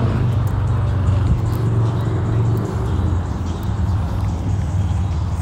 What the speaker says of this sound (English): So much traffic out here.